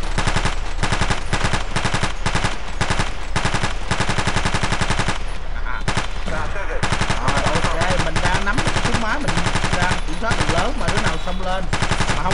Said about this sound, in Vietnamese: súng máy phải bắn kiểu này mới đúng nha các bạn